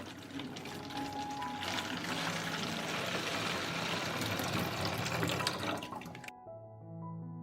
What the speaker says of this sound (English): After an hour, I pour the solution into a 5-liter bottle.